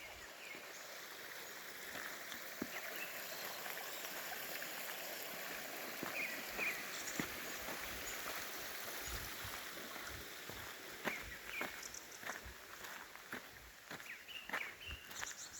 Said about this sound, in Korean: 새소리 좋죠? 물소리.